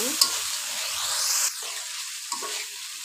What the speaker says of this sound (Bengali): আলু সিমের বিচি একটু ভালোভাবে একটু কষিয়ে নেব।